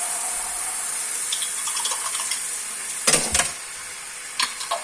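A steady hiss of water runs from a tap into a jar, with a few brief clinks and splashes near the end.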